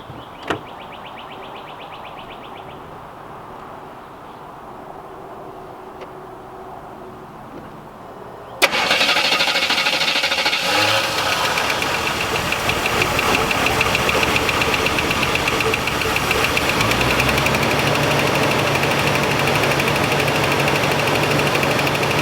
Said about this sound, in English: let me hit the key and see if it'll fire up